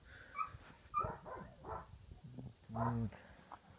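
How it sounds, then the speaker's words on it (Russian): Dog barking a few times at a moderate distance during repair work on a tractor-mounted rotary mower, with someone talking intermittently nearby. "Собака лает."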